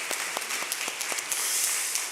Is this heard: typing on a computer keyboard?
no